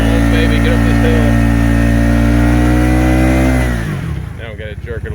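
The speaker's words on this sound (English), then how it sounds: "For being 250 cc's, it's got a lot of power. Come on, baby, get up this hill." A 250cc off-road vehicle engine revs loud and steady as it climbs a hill, holding a strong droning tone for several seconds before the pitch drops and it falls to a rougher, fluttering idle.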